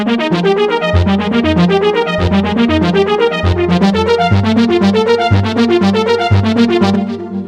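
Bright synthesizer notes from a Roland AX-Edge arpeggiator cycle in a rapid, steady arpeggio over a pulsing bass line, loud and continuous with no voices, fading slightly at the end.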